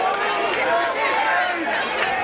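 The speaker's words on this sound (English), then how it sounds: "it appears a pretty lively crowd to get things started" Steady crowd chatter and murmuring fill the stands at a 1990 South Carolina state championship baseball game at night, a continuous babble of many voices without a standout cheer.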